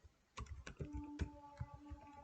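Keys tapped on a computer keyboard while typing a file name, a short run of close, distinct clicks after a brief quiet start, alone with no speech.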